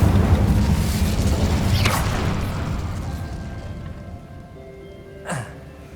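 An Incendio fire spell cast in the video game Hogwarts Legacy, a roaring whoosh of flame over a rumbling game backdrop that fades, followed by a sharp swooshing burst near the end.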